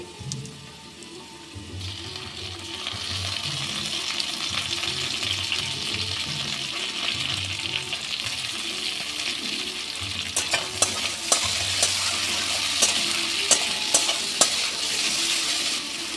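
Ginger and green chillies sizzle steadily while frying in a pan for a radish dish, with stirring scrapes throughout and sharper crackles toward the end, close and fairly loud.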